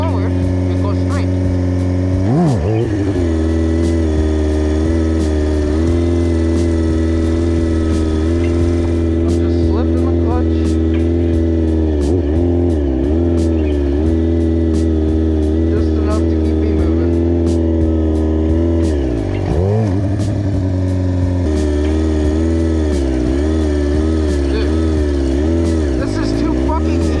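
A Kawasaki 636 motorcycle engine drones loud and steady while the bike rides a wheelie on its back wheel, with its pitch dipping and swelling as the throttle shifts. Voices talk over the engine throughout.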